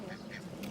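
Ducks on a lake give a brief burst of nasal quacks, near and fairly clear over a busy outdoor background.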